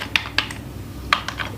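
Fingers tap code into a computer keyboard, leaving a few sharp, light keystrokes in two small clusters against a quiet room hiss, with no voice.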